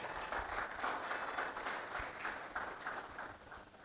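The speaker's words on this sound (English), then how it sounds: "Round of applause for Doctor." Faint, distant applause from an audience at an annual colloquium, a soft patter of clapping held at an even level for a few seconds.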